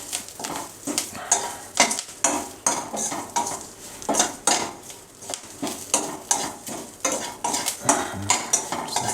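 Curry leaves dry-roast in a pan for poha chivda, heard as repeated rhythmic scraping and clinking of a spatula against metal over a faint sizzle, steady strokes roughly every half second, with no speech.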